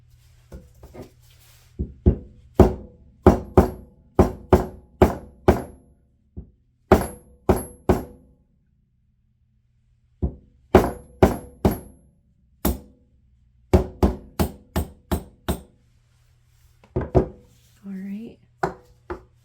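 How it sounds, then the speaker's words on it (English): A rapid series of sharp metallic hammer blows driving a taped socket onto a Bilstein shock absorber during a rebuild, in bursts, loud and close, with short pauses between clusters of strikes. "That takes quite a bit of hammering to put it in"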